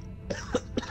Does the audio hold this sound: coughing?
yes